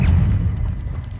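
A single deep, booming blast from a Confringo fire spell in the wizarding game Hogwarts Legacy, loud at the start and then rumbling away over about a second.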